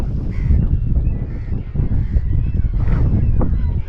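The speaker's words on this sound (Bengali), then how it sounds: "খুব কাছ থেকে প্রচুর সংখ্যক গাল এখানে ডাকাডাকি করছে।" A large flock of black-headed and brown-headed gulls calling close by on a cold December coast, harsh overlapping cries over steady wind rumble on the microphone.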